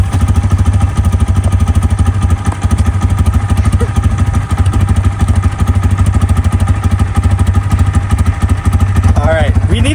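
A cheap Walmart sport motorcycle idles steadily up close while warming up, a continuous low pulsing engine note with mechanical clatter, as a person talks over it throughout.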